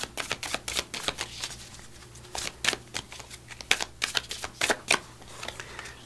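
Oracle cards shuffled by hand in a series of crisp, rapid riffling bursts and flicks, close and fairly quiet, with a faint steady hum beneath and no talking.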